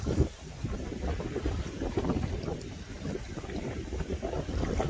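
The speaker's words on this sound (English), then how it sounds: "but it's quite windy" Wind buffets a microphone outdoors, a continuous low rumbling roar with gusty surges and dips throughout, fairly loud with no speech over it.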